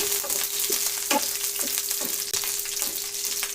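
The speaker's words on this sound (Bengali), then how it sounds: "দারচিনি দিয়ে দিলাম, এলাচ দিয়ে একে একে সবগুলো দেওয়ার পরে একটু নাড়াচাড়া করে নিলাম" Cinnamon and cardamom with bay leaf frying in a little oil for a pigeon meat curry, a loud close sizzle broken by several stirring scrapes, no one talking.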